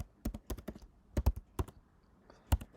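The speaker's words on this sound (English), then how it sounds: "The line I'm going to type now, you don't need to do it." Quick, uneven bursts of key clicks from a computer keyboard as a line is typed at a programming prompt, close and fairly quiet, with short pauses between clusters and no talking.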